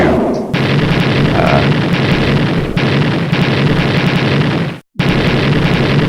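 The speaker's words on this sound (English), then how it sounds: "each explosion that happens in the base actually damages it further" A base blowing up in a space shooter video game: a sustained series of loud, heavy explosion booms rolling one into another for several seconds, with a brief silent gap near the end before the blasts resume.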